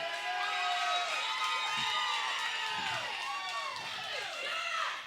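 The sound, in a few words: crowd cheering at a wrestling match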